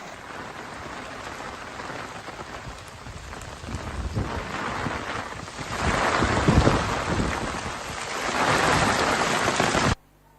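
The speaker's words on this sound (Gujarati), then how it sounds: "હજુ ધીમી ધારે વરસાદ યથાવત છે" Steady rain pours down outdoors in Gujarat, a dense continuous hiss with gusty swells and rumbling low bursts that grow louder midway before cutting off abruptly.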